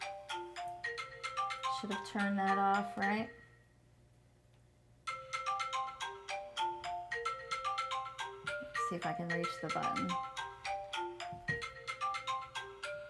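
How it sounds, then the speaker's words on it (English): A phone ringtone plays a repeating melodic tune, fairly close, with a brief pause before it resumes and continues steadily while a person talks over it. "Oh, I apologize about the phone."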